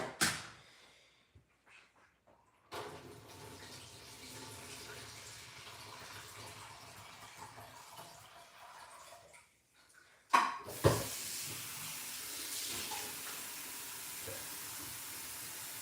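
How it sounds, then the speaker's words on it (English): Running tap water rinses freshly developed and fixed photographic film. The water starts and stops in bursts, with a steady hiss and gush heard nearby, broken by brief pauses and faint handling noises. "I like to rinse the film as soon as possible after fixing it"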